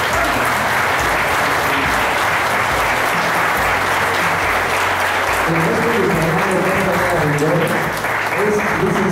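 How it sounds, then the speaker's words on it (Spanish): An audience at a legal conference on organ donation gives a strong, sustained round of applause that fills the whole stretch, with a voice speaking over it partway through. "Un fuerte aplauso"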